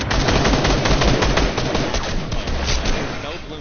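Assault rifle fire in a PS4 shooter game: loud, sustained rapid automatic bursts, dense and continuous throughout with no pauses.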